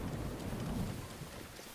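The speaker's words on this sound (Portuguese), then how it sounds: "Só chove e troveja." Rain and thunder in the video game Zelda: Breath of the Wild form a dense, steady wash of rainfall with a deep, low thunder rumble swelling and fading, heard without talk.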